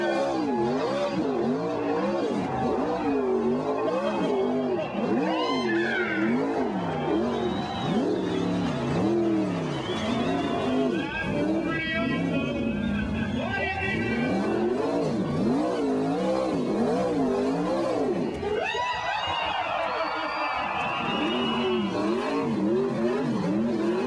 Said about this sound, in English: the expression session, wheelies and donuts in sprint cars